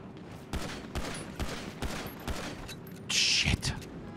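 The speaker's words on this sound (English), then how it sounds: "Oh, shit, they're shooting. They're shooting." Gunfire rings out in the video game GTA 5 during a roleplay session, with scattered sharp shots and a denser volley near the end, while a voice talks over it.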